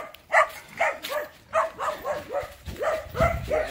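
Dogs and puppies bark in a steady string of short, sharp yips and barks, close and fairly loud, with small pauses between them. No voices can be heard.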